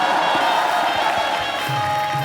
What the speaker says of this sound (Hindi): तालियां बजाना।